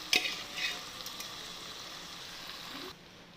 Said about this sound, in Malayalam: ചെറുതായിട്ടൊന്ന് റോസ്റ്റ് ചെയ്തെടുക്കാം.